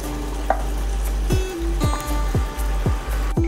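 Medu vada batter, shaped with a hole in the middle, drops into hot oil and bubbles with a steady close sizzle; several sharp plops and hisses recur every half second or so over a constant low hum.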